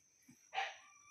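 A dog gives one short, close bark, with a soft yip before it and a faint sound at the very end.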